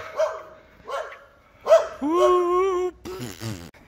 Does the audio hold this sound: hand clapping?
no